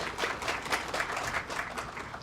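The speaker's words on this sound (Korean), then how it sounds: "큰 박수 부탁드리겠습니다" An audience at a startup demo day event in Busan claps to welcome the next presenting team onto the stage, a moderately distant, even patter of many hands.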